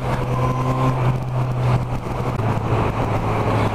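Honda CB1000R motorcycle idling with its stock exhaust, a steady low purring engine hum close by, even and continuous without revving, no speech.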